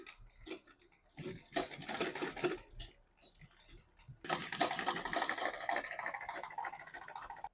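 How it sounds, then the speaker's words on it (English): A sewing machine top stitching fabric pieces for a butterfly top and skirt, running in short bursts of rapid needle chatter, then a longer continuous run near the mic. "So I'm just going to go ahead and then top stitch on this."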